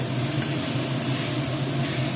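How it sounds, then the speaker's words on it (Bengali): Ingredients lightly frying in a pan on a home stove, a dense continuous sizzle with a faint stirring scrape, close and steady. "হালকা ফ্রাই হয়ে গেছে"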